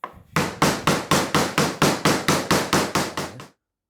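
Steady rapid hammer blows on sheet metal for a kit car body, about fourteen sharp ringing strikes in even rhythm, loud and close, then stopping abruptly.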